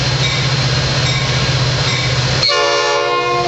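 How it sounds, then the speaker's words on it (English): A Metra F40PH locomotive rumbles past loud and close on the line toward West Chicago, then its horn blares as a sustained chord to the end. "This train terminates in West Chicago."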